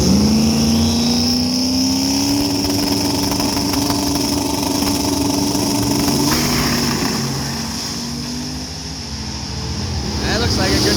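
A drag racing car making a pass down the strip at a Midwest Drag Week event, a loud, steady engine roar with a slowly rising pitch that dips and swells near the end, while someone talks over it.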